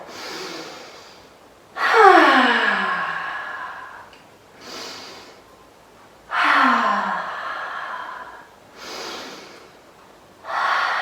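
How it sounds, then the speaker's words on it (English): Deep breaths during a kids' yoga session, loud drawn-in inhales alternating with softer sighing exhales in a slow, steady rhythm, close and with no talk. "Let's take some big breaths here."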